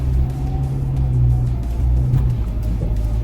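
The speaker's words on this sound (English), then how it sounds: "So this 2-liter bi-turbo pulling this Wildtrak Super Cab through the sand." A Ford Ranger Wildtrak Super Cab with a 2-liter bi-turbo engine drives off-road through sand, producing a continuous deep, loud engine rumble and drone that holds steady throughout, with no speech.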